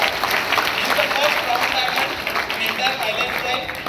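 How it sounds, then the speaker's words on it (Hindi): Audience at a direct-selling leadership event applauding a senior leader, a loud continuous crowd of clapping with cheering voices mixed in, filling the whole stretch. "ये जो राजेश यादव सर मेरे सीनियर, उनके लिए जोरदार तालियां होनी चाहिए"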